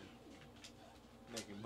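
A pigeon or dove coos softly a few times, quiet and somewhat distant, over faint low background noise.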